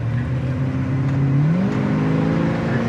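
A 1979 Chevrolet Camaro Z28 engine pulls hard on kick-down, a loud steady rising drone heard close from inside the car with no talk over it.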